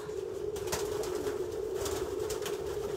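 Soft, low cooing from a pigeon, steady and close, with faint rustling and clicks in the background and no talking.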